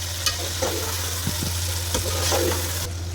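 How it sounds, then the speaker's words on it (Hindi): Chickpeas roast with masala in a pan for Kabuli pulao, giving a steady low sizzle with a constant hum underneath and a few scattered spoon clicks and scrapes. "तो चने में हम मसाला डाल देते हैं, ताकि ये सारी अच्छी तरह से सारी चीज़ें भून जाएं"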